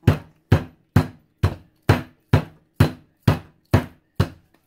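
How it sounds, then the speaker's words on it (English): Ten evenly spaced dull thuds as a chicken breast in a bag is pounded flat for chicken Kiev, each blow sharp and close with a quick decay and no talk. "I think I might have to beat on it a little bit."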